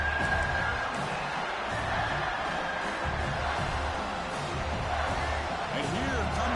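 A steady roar from a stadium crowd in a college football video game, loud and continuous, with a commentator's voice over it.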